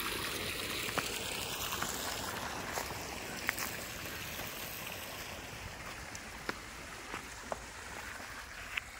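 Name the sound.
water pumped from a deep tubewell through a pipe into a pond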